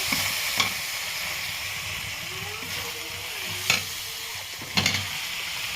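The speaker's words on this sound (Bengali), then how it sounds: "আর কচু রান্না করবো বলে তার জন্য মশলা এখানে কষানো হচ্ছে" Spices fry and sizzle in a pan with a steady hiss for a taro dish, broken by a few sharp scrapes of a spoon stirring.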